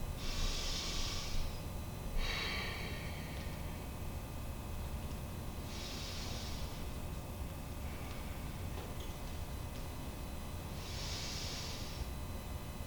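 Slow, deep breaths taken while holding a standing hip flexor stretch with the pelvis tucked and chest tall, three soft airy exhales spaced about five seconds apart, faint and close, with no talking.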